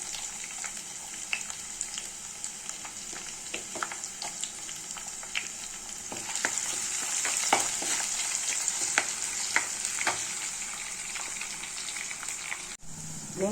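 Onions sizzle in hot oil with ginger garlic paste for a small-fish curry, a steady bright frying hiss broken by frequent spatula scrapes and taps, louder in the middle stretch, with no one talking.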